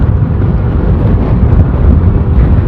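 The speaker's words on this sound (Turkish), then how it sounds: "Bugün hava biraz esiyor." Steady broadband wind buffeting into the microphone while riding a SYM 200cc motorcycle on a breezy day on rough road, a constant low rumbling roar with no speech over it.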